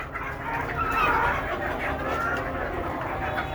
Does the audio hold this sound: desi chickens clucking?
yes